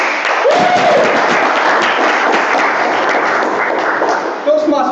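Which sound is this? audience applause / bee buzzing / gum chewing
audience applause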